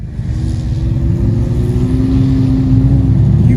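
A 2025 Ram TRX pickup, a camouflaged mule prototype, pulls away with a loud steady exhaust drone that rises in pitch as it accelerates, heard close and alone.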